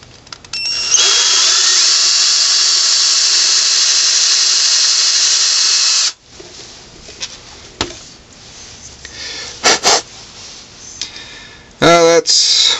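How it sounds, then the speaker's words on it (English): A power drill bores into the face grain of wood, running as a steady high whine for about five seconds before stopping, followed by a few scattered clicks and handling knocks. "I've always drilled into the face grain."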